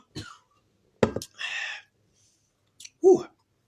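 A few short, harsh coughs spaced apart with a breathy exhale in between, close and fairly quiet against silence.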